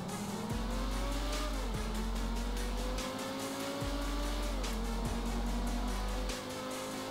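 Progen T20, Osiris and Zentorno supercars race in GTA V, engines revving loudly through repeated gear shifts, with rising and dropping whine and tire squeal, close and constant with no talk.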